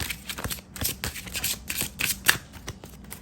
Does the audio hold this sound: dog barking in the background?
no